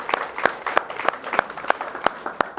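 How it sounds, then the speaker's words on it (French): A small studio audience on a Guinean TV set claps for an arriving guest, a couturier, in distinct, fairly rhythmic hand claps, about three per second, close and moderately loud. "que je vous demande d'applaudir"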